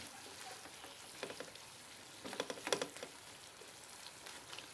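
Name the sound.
beef and onions frying in a pan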